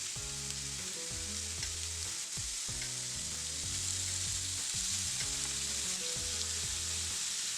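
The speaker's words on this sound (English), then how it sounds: "I am adding just a bit of butter, unsalted butter, and I'm adding the seasoned beef." Seasoned beef sizzles steadily in unsalted butter on a hot griddle, a continuous close frying hiss with occasional crackles and soft scraping as the meat is stirred.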